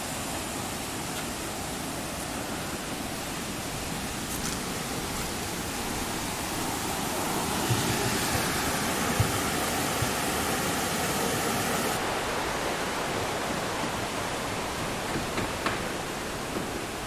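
Clean water flows through Sapadere Canyon in Alanya, Turkey, a steady broadband rush close by, unbroken for the whole stretch with no voices over it.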